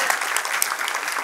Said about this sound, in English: I think we should do a round of applause for that one.